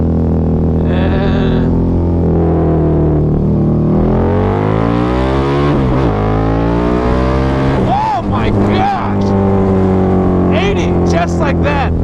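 Harley-Davidson V-Rod motorcycle engine revving hard and pulling up through second gear at highway speed, a loud continuous roar with rising and falling pitch, close up with wind noise and a rider talking over it.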